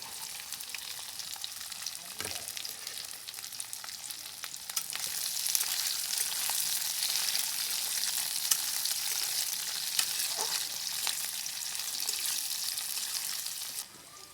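Chopped garlic, capsicum and onion frying in hot oil in a pan give a steady, dense sizzle with faint crackles, growing a little louder partway through and continuing without a pause.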